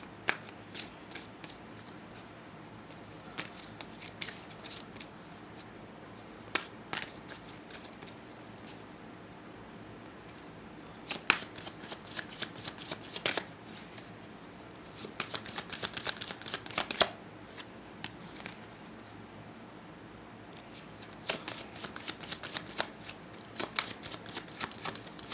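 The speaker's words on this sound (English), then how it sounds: "let me think on this for a minute while I shuffle" Tarot cards being shuffled in repeated crisp riffling bursts with quiet pauses between, close up and fairly soft, no talking.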